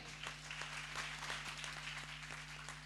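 A church congregation claps during a Friday worship meeting, a continuous fairly quiet patter of many hands over a steady low electrical hum, with a few sharper claps marking a loose rhythm.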